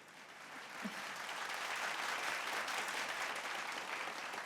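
Audience applause at a joint school annual day celebration, a dense, even wash of many hands clapping that swells after a moment and holds steady throughout, fairly distant and soft.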